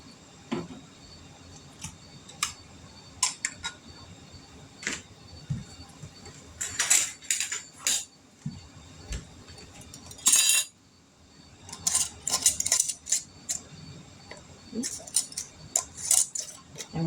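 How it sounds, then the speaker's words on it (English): Metal lids clink and tick against glass canning jars of hot apple butter as they are screwed down finger tight, a scattered series of sharp close taps and rattles with quiet pauses between. "now we'll put some lids on them"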